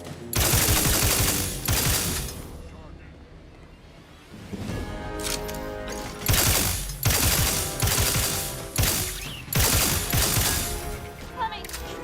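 Bursts of rapid gunfire from The Outer Worlds 2, loud and close, arriving in several separate volleys with brief gaps and a mechanical clatter between them.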